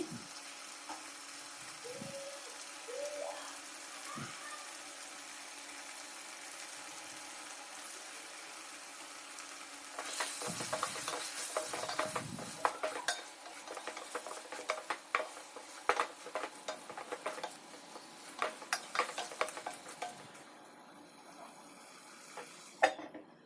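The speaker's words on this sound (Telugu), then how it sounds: "ఇప్పుడైతే చికెన్ బాగా ఫ్రై అయింది." Chicken frying in a pot for chicken pulao, a faint sizzle with scattered scraping and clinks of a spoon stirring against the metal, busier in the second half.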